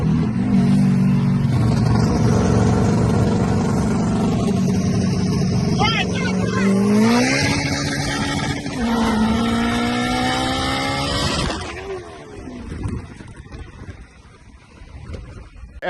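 A turbocharged eighth-generation Honda Civic engine drones loudly, its revs sweeping up and down sharply after a missed gear shift, then fading toward the end, with someone talking over it throughout.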